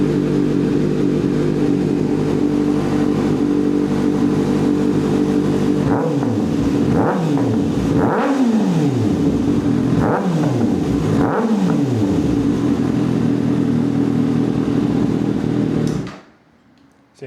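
A 2026 Kawasaki ZX-6R sport motorcycle with a slip-on exhaust idles steadily, then revs sharply four times in quick succession, each rise falling back to a throaty burble, close up and loud.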